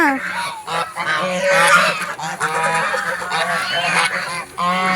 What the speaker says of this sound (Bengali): যেও না কতগুলো রাজহাঁস তুমি ধরবে আরোহি ধরতে পারবে না